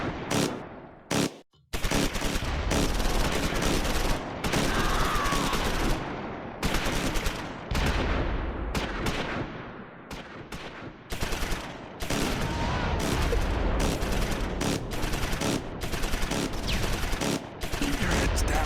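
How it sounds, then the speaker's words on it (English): Machine-gun crossfire in the WWII strategy game Close Combat 4, Battle of the Bulge, against a German light machine gun: nearly unbroken, loud rattling bursts and overlapping shots for many seconds, with only a couple of brief gaps. "First platoon opens a crossfire on a German light machine gun."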